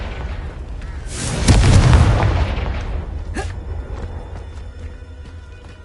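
A Confringo blasting spell in the Hogwarts Legacy video game bursts with a single loud, deep explosion that swells and rumbles away over a few seconds, followed by a brief sharper crack.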